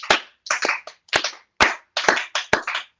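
A congregation claps together in acclamation of God during a church service, about seven sharp, evenly spaced bursts of clapping in unison, close and loud, with no talking.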